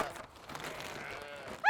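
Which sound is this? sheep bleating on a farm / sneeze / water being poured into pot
sheep bleating on a farm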